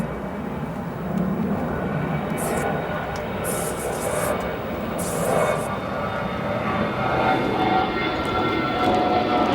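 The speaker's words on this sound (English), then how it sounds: "SAS Flight 944, Scandinavian Airlines, and Airbus A330-300 that will be departing to Copenhagen momentarily." An SAS Scandinavian Airlines Airbus A330-300 departs O'Hare Airport with a steady, broad jet roar that holds at a fairly even level throughout.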